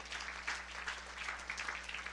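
A church congregation claps enthusiastically during a worship service, steady dense applause filling the room throughout at moderate distance, with a low constant hum underneath.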